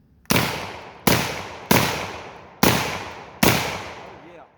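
Five loud, sharp shotgun blasts from a GForce GFY 1 firing heavy 1 1/8 to 1 1/4 ounce hunting loads of number 6 shot, spaced roughly a second apart, each with a quick decaying echo.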